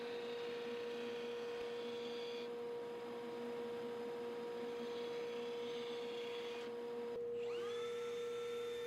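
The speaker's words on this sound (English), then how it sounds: "hit it on the little edge sander just to fine tune that cut" Small edge sander running against wood to fine-tune a cut, a steady motor whine and hum with brief changes as the piece is pressed and lifted, then the motor spinning down near the end; fairly quiet, no talking.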